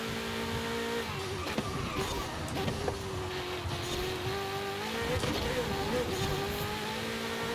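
A Ferrari race car in Forza Horizon 5 drives hard, its engine droning steadily and shifting pitch through gear changes and corners, with tyre and road noise underneath.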